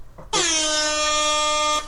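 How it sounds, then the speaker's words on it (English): A loud, blaring air horn blast holds steady for about a second and a half, preceded by a brief faint tone, then cuts off. "This is the sound of the controversial entry horn"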